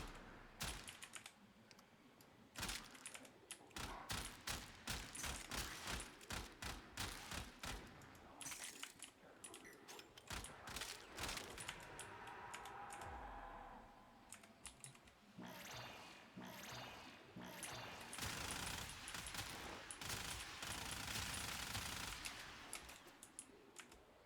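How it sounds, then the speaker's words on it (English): Gunfire in the video game Warframe, two magazines emptied in rapid clattering bursts, sharp close repeated shots filling most of the stretch with short pauses between volleys. "So I'm just going to shoot 2 magazines out."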